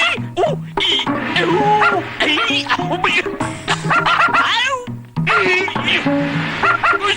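A human voice imitates a dog, giving a run of barks, yips and whimpers in bursts with a short pause midway, loud and close.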